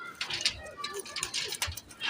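Saharanpuri pigeons cooing close by in a loft, soft repeated calls in a steady rhythm with someone talking over them.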